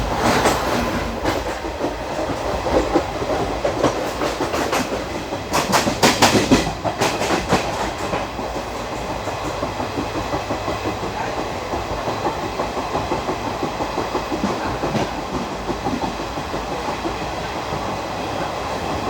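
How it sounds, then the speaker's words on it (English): The 22149 Ernakulam Pune Superfast Express runs at speed on the main line through the Bhor ghat in the monsoon, heard from on board as a loud, steady rumble and rhythmic clickety-clack of wheels over rail joints, continuous throughout. "We are now on the main line and we have now picked up speed."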